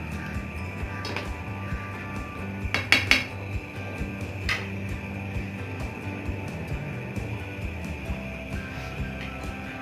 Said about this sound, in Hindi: अब इसको अच्छे तरीके से हम इसको तवे पे भूनेंगे।